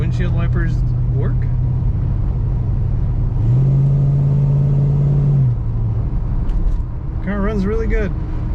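A 1968 Plymouth GTX cruising down a highway, its engine a steady low rumble that rises briefly to a higher, brighter drone midway through before settling back, with a faint voice near the end.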